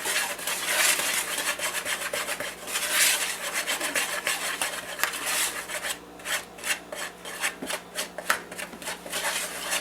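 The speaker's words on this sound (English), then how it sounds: "I've got 2 cups of all-purpose flour. I'm going to add a teaspoon of salt to that. And we're going to whisk this all together." All-purpose flour and salt whisked together in a bowl, a close, dry scratching and rasping that runs continuously at first, then breaks into quick rhythmic strokes, with no voices.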